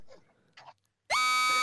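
An alarm on a Gringotts ride cart from Harry Potter and the Escape from Gringotts blares as a single loud, harsh buzzer tone lasting about half a second. It follows a few faint, scattered sounds.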